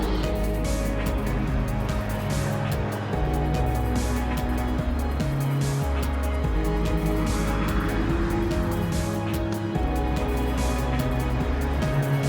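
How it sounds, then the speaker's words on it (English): A McLaren car with a quad-pipe exhaust, two upper pipes and two lower ones, runs at Goodwood SpeedWeek 2020, producing a loud, continuous engine roar with shifting pitch bands that sounds close and sustained throughout. "2 pipes at the top, creating high frequency sound, and 2 pipes at the bottom, creating low frequency, bassy sound"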